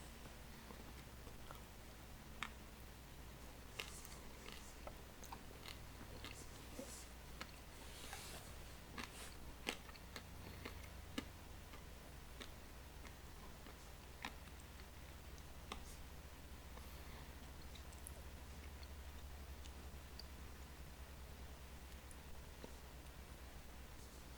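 Crunchy bread and butter topped with sprinkles being chewed close up, faint intermittent crisp clicks and crunches over a steady low hum, no talking.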